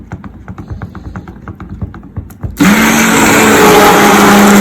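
Cold process soap batter is blended toward emulsification with a stick blender, which starts abruptly after a few quiet taps and then runs as a loud, steady, close-up motor whine.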